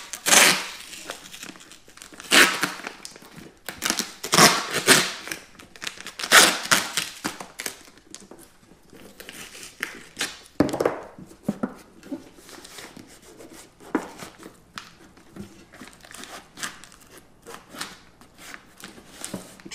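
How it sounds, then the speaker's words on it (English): Masking tape being pulled and stuck around a helmet, a run of sharp crinkling rips and tears in close bursts, some louder than others, with quieter handling rustles between them and no one talking. "Normally I will run a strip of tape all the way around."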